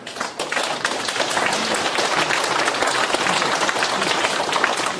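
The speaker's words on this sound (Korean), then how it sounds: "큰 박수 부탁드립니다." A lecture-forum audience breaks into loud, dense applause as a professor is welcomed to the podium, with many hands clapping close and continuously throughout.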